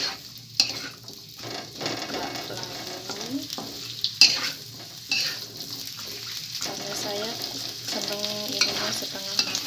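Chopped onion frying in a pan while it is stirred, a continuous close sizzle with scraping and clinking utensil strokes, and a voice speaking at times over the cooking.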